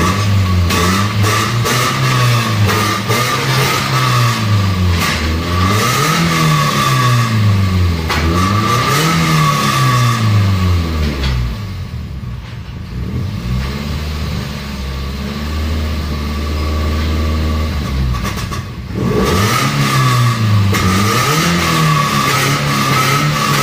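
A 2014 third-generation Toyota Vios with a 1NZ-FE engine, a racing camshaft and a stock exhaust revs loudly and close by in repeated rising and falling blips, then drops to a lumpy idle before revving again.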